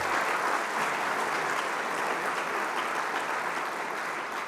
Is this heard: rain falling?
no